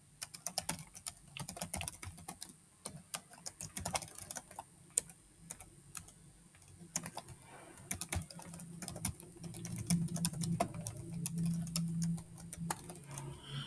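Quiet, irregular keystrokes tapping on a computer keyboard while entering text in MS Word 2000, a continuous run of light clicks with brief pauses and no voices.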